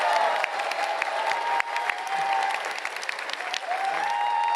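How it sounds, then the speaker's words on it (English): A large crowd at an Anime Expo panel applauds loudly and continuously, with a dense patter of clapping and a few cheers mixed in. "I just didn't expect this many people and such huge applause"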